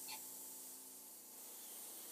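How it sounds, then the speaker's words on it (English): Burnt sienna spray paint hisses onto an 8 by 24 inch canvas in a faint, continuous spray with a soft faint tone under it. "Spray the entire canvas with burnt sienna paint."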